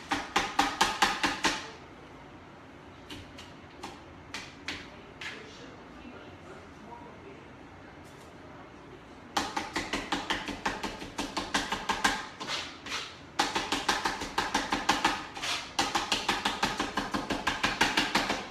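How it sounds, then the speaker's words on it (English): Rapid knife chopping through eggplant on a board, sharp repeated taps in bursts, with a quieter pause in the middle before chopping resumes steadily. "So I just want to put a rough chop on this."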